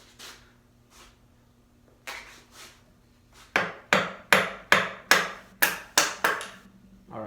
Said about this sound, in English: I'm going to take a large chisel here. I'm going to start tapping out some waste.